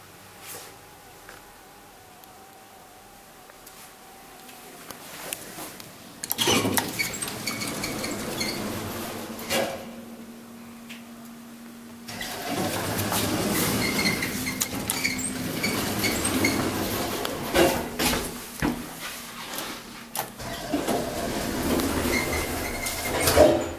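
A 1988 Ameco hydraulic scenic elevator at Galleri Oslo in Oslo, Norway clunks and rattles as doors slide, then hums steadily with rising mechanical noise and occasional knocks during the long ride up from the basement.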